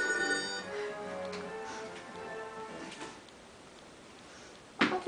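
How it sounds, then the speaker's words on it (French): A telephone bell rings in repeated bursts, clear and fairly close, then falls quiet before a sharp clack near the end. "Le téléphone qui sonne"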